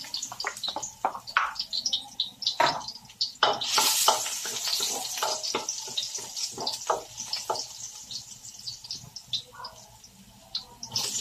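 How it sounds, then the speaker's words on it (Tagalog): Garlic sautéing in cooking oil for lumpiang Shanghai, a steady close sizzle with bursts of stirring and scraping clicks throughout, no talking. "Bibisa lang po tayo ng bawang."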